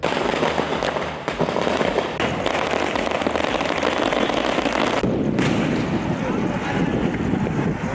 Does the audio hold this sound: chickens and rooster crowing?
no